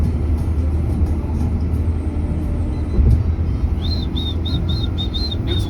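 A car with a Karnataka registration, apparently a Maruti 800, pulls along the road with a steady low engine rumble close by, while birds chirp repeatedly in the background near the end.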